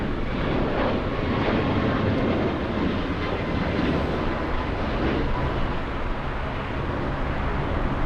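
Airliner in flight out of Los Angeles International bound for Vancouver, a steady, loud broadband engine roar that holds evenly throughout with no talk over it.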